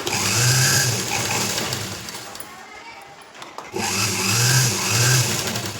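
Electric sewing machine stitching lace along both edges of a blouse, running in two loud buzzing bursts with a quieter pause between them.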